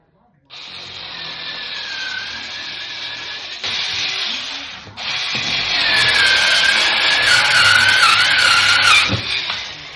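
Cordless electric power shears cut through a wooden board with a steady, loud buzzing saw-like whine. The sound pauses briefly near the middle, then resumes and grows stronger.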